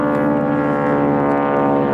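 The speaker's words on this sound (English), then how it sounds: "We've got a couple of planes flying over" A steady, droning engine roar of vintage propeller planes passing overhead, loud and continuous throughout with no voices.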